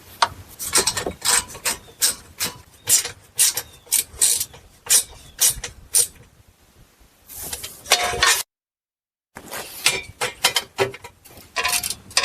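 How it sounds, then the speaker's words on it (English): A ratchet tightens 10mm heat shield bolts on a GM 4T65-E transmission install, giving rapid, close, clicking pawl bursts in repeated strokes, with a short silent gap before the clicking resumes. "you're going to tighten up the 10mm on this side and the 10mm on that side"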